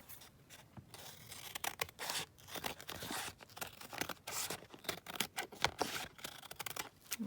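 Scissors trim paper for a book page pocket in close, quiet, irregular snips and crisp cuts, with soft paper rustling between them and no talk.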